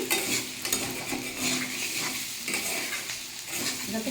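Potatoes are stirred and sautéed in a pan, giving a continuous close sizzle broken by irregular scraping and clinking strokes of the spoon against the metal.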